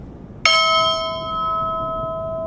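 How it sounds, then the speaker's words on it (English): The Fordham victory bell strikes once, loud and clear, then its bright metallic tone rings on and slowly fades. "Student Government President Brian Reardon rang the Fordham victory bell 17 times for 17 minutes."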